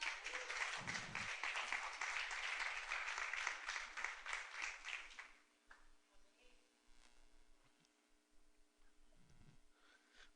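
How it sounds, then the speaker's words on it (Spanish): A church congregation at a Spanish-language worship service claps in applause for the Lord, a brief burst of dense clapping for about five seconds that cuts off into quiet room tone with faint talk. "denme un aplauso al Señor."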